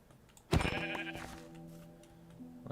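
A single Minecraft sheep bleats clearly once in the video game, a short, fairly close call that trails into faint, steady tones with no talking.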